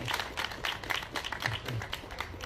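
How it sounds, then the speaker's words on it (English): Rally crowd clapping for young people from Charlotte, a dense, steady patter of many hands close by throughout, with no voices over it. "Give these young people from Charlotte a big round of applause."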